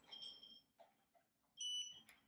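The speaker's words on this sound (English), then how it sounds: "The beep tells me now it's working." A heated neck massager gives two clear, steady electronic beeps, the first longer and the second after a short pause, close and moderately loud with a faint soft tap between them and no talking.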